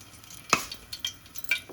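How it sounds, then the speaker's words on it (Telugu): Crushed garlic, four cloves, dropped into hot oil gives one sharp sizzling burst, then a few lighter crackles and pops trailing off over the next second. "ఆయిల్ వేడెక్కింది కదా, ఇలాగా 4 వెల్లుల్లిపాయలు దంచుకొని వేసుకుందాం"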